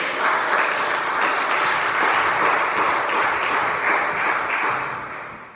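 A church congregation applauds steadily and loudly in a dense, continuous wash of clapping that tapers off at the end.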